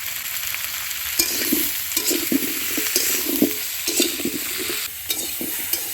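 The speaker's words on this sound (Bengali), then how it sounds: "আলু আর বিচি কলা হালকা ভেজে নিয়েছি" Potato pieces and seeded banana frying lightly in a pan, with a steady close sizzle broken by repeated scraping stirs, and no talking.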